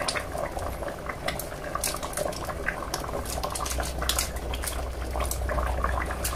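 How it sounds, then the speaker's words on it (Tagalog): Corned beef with mung beans bubbles at a steady boil in a pot, a close, continuous churning simmer with no voices. "Bumukal na naman ulit."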